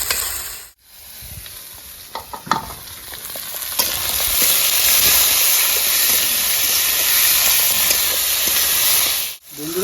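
Mustard paste dropped into hot oil in a pan for a spicy fish curry, bursting into a loud sustained hiss and sizzle after a few brief clatters, close and steady with no talking.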